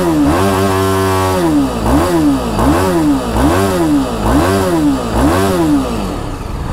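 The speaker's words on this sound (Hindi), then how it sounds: "अब मैं आपको इसका एग्जॉस्ट नोट सुना देता हूँ कि एग्जॉस्ट की इसकी आवाज कैसी है" Exhaust note of a BMW G310RR motorcycle at a roadside stop: six or seven sharp throttle blips rising and falling over a steady, loud idle, close by and with no talk over it.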